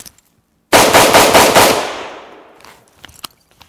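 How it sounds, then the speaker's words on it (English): Five rapid AR-15 rifle shots fired as fast as possible at a 15-yard target, loud and close, run together into one dense burst that rings out and decays over about a second. "I'm going to run just 5 rounds as fast as possible into this 15-yard target"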